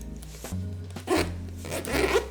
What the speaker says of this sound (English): So the zippers are nice.